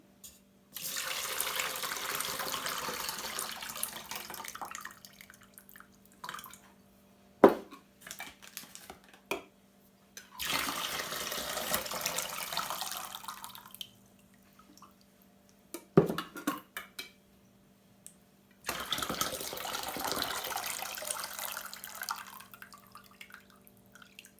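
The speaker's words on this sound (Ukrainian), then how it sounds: "зливаємо воду" Water is drained from jars of marinated tomatoes in three long, splashing bursts separated by short pauses, with a few sharp clinks of glass or metal in between.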